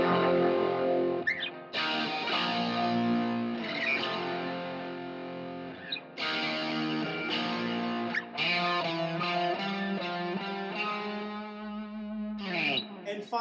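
Electric guitar with distortion strums a song's chorus power chords, sustained and loud with chord changes every couple of seconds, ending in a sliding note.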